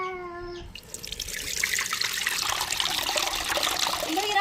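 Dissolved tamarind water is poured into a pot for fish curry, a steady trickling splash that swells louder over a few seconds after a brief tonal sound at the start.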